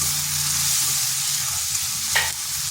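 Grated ginger fries lightly in hot oil with turmeric, making a continuous bright sizzle with a soft stirring scrape near the end.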